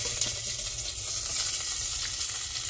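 Onion frying in a little chicken fat left in the pan for chicken with black beans, a soft, even sizzle with a low steady hum underneath and no talk.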